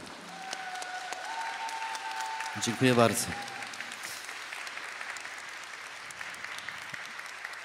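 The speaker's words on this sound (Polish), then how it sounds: "Wielkie brawa," An audience at a Catholic music group's fifteenth-anniversary jubilee concert applauds a guitarist, a steady wash of clapping running under a brief spoken thank-you and a few sustained tones.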